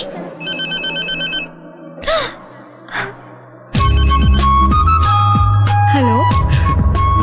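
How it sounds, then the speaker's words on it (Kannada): A phone ringtone plays as an incoming call in a Kannada film scene, first a high electronic melodic ring, then louder tones over music and sound effects, with brief voice-like sounds between. "ಇನ್ 3 ಸೆಕೆಂಡ್ ಅಲ್ಲಿ ಆ DC ಫೋನ್ ಮಾಡ್ತಾನೆ ನೋಡು"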